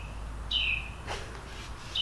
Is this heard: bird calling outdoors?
yes